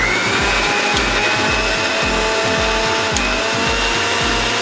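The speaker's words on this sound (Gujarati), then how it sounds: "હવે આમને આપણે મિક્સરની અંદર પીસી લેવાનું છે." A kitchen mixer grinder whirs loudly and steadily up close while blending gulkand with milk, its motor droning throughout with a faint rhythmic pulsing and no voices.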